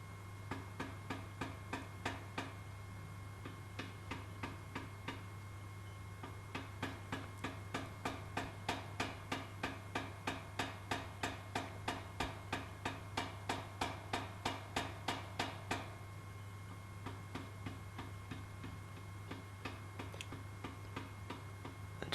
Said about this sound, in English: I've got a power hammer,